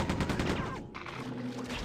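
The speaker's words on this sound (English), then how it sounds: "the fucking minigun in this game is insane" Sustained minigun fire in the video game Quake II, a dense continuous stream of rapid shots pouring out at a steady rate for under two seconds, fairly quiet and not interrupted by talk.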